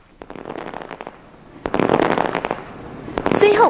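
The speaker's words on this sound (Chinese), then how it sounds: "火箭腾飞等精彩烟火" Fireworks bursting over Taipei 101 during a New Year's Eve countdown show, with rockets launching; a rapid run of sharp crackling pops and booms builds to louder, denser volleys with a rising whistle near the end.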